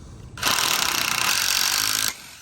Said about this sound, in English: Nikita, you want to put 2 in? 2 screws? Pull the trigger